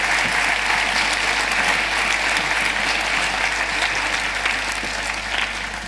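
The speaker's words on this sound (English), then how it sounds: "give them a round of applause as they join us" Audience applauding steadily as a panel walks onto the stage at a media discussion event, a dense sustained wash of clapping that fades slightly toward the end.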